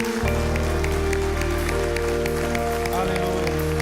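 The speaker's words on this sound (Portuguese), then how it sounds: "Vamos aplaudir o Senhor." A church congregation claps together, steady and fairly dense, over sustained organ or keyboard chords that sound throughout.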